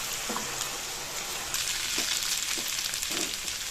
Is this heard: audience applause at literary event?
no